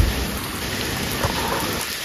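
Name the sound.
heavy monsoon rain with thunder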